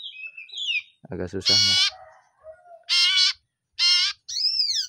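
Female common iora calling: short bright chirps and rising-falling whistled notes in separate bursts, close and fairly loud, with a voice speaking briefly between them.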